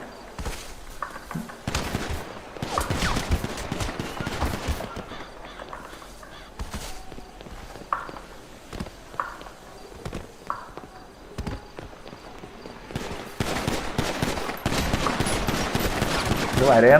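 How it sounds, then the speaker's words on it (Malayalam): Rapid bursts of video game gunfire crackle repeatedly over a busy, noisy mix, with voices talking intermittently throughout. "വെടിവെക്കാൻ അറിഞ്ഞൂടല്ലോ മാരിക്ക്"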